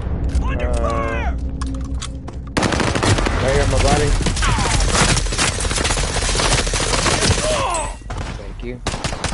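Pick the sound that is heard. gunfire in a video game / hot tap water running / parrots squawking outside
gunfire in a video game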